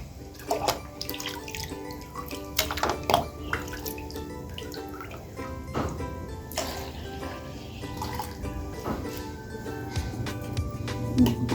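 Tap water poured into a solution in a container, a steady liquid splashing and trickling with a few sharper clinks and drips, fairly close and moderately quiet, with no voices.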